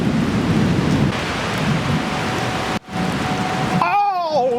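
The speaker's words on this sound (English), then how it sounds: "and it started raining." Heavy rain pours steadily during a thunderstorm at KL Tower in Malaysia, a loud broadband hiss with low thunder rumble, briefly dropping out before a voice cries out over the downpour.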